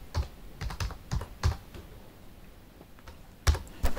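Keys clatter on a computer keyboard while entering data into an Excel spreadsheet, a run of close, quiet taps in uneven bursts with short pauses and no voice.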